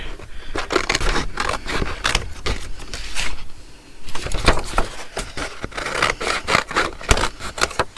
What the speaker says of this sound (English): I think I'll also cut out these bits from this same page